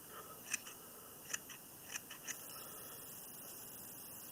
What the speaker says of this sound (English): I'll take my big scissors and I'll just